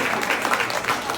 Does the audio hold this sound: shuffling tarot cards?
no